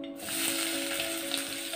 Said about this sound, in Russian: В казане объемом 2 литра разогреть 80 мл оливкового масла.